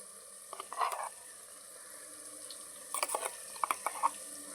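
Ginger garlic paste hits softened tomatoes, onion and green chilli in a pan, giving a faint, low sizzle. Scattered utensil clinks and stirring scrapes come in brief clusters.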